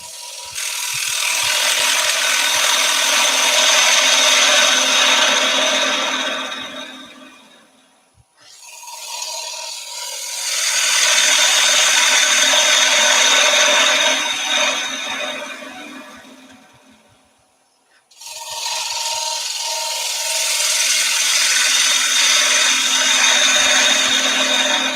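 A sharpened 3/8 gouge cuts a wooden bowl on a lathe in three long, loud, harsh scraping passes, each trailing off and briefly going quiet before the next one starts.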